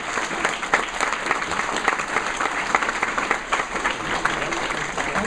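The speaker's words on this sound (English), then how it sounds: "let's have a big round of applause for all of the kids right now." A large audience applauds a group of young presenters, a sustained wash of many hands clapping, loud and continuous, with faint crowd murmur and a voice briefly audible beneath.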